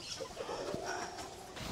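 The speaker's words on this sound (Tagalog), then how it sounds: "ang paghuhuli ng manok ang mahirap" Hens about three months old clucking as they are caught and put into a cage for vaccination on a small farm, short agitated calls close by over a busy rustling background.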